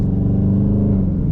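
2019 Dodge Charger R/T with the 5.7-liter V8 at full throttle, a loud, steady engine roar from inside the car with a strong low rumble held for about a second and a half.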